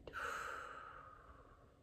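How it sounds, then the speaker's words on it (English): A single long, slow exhale through the mouth during a guided breathing exercise for stress relief, soft and close, fading gradually with no talk over it. "Exhale it."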